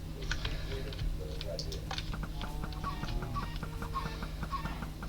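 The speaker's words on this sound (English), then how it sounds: "See how the chicken farm is going?" Chickens cluck in a Minecraft chicken farm, with repeated short clucks and squawks over a steady low hum and faint clicking, fairly quiet with no one speaking.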